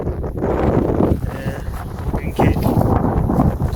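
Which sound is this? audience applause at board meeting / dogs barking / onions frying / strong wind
strong wind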